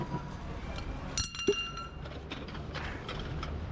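Ceramic saucers handled during a night dumpster dive, giving a couple of brief, sharp clinks around the middle over a quiet outdoor background.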